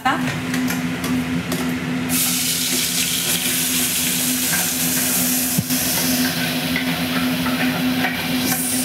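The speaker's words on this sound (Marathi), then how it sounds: "तेल पण गरम झालंय. जिरं टाकते मी." Cumin seeds crackle and sizzle in hot oil with a loud, dense frying hiss and a steady hum underneath, a sharp clink partway through, no clear talk.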